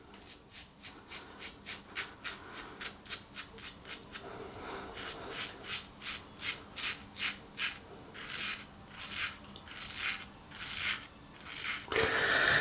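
A Soviet KEDR-2 military electric razor, issued in 1983 and kept as new old stock, runs freshly recharged while shaving with light pressure. Close rhythmic rasping strokes repeat steadily with no speech.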